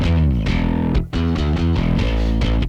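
Distorted bass tone from a Two Notes ReVolt Bass tube-distortion pedal: loud, gritty sustained notes in a steady riff, briefly stopping near the one-second mark and again at the end, with no voices.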